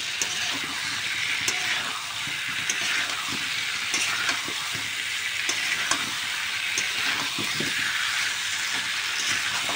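Pieces of elephant foot yam, soaked in salt water, frying in spices in a wok, with a constant loud sizzle and frequent light scrapes and clinks of a stirring spoon throughout.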